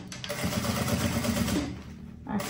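A sewing machine stitches the finishing strip of a handbag lining, a steady mechanical run with rapid low rhythmic pulses that holds for about two seconds and then stops, close and fairly quiet.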